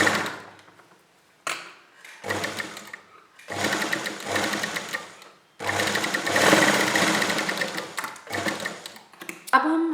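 An electric sewing machine runs a rough stitch along a folded edge of a kurti, close and loud, in several bursts of rapid whirring separated by short pauses, the longest run in the middle.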